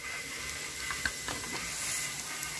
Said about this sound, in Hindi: कीमा भी फ्राई हो रहा है